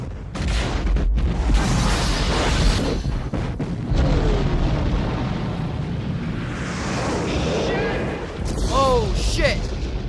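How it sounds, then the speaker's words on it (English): A loud explosion from the 1988 film Die Hard, where explosives are dropped down an elevator shaft: dense, rumbling booms and bursts fill the whole stretch, mixed with voices and other chaotic film sounds. "That was an explosion."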